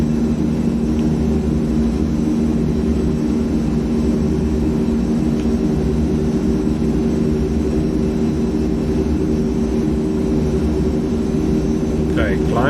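C-160 Transall turboprop engines drone steadily and loudly throughout a flight-simulator climb, a continuous low hum with layered tonal bands and no break.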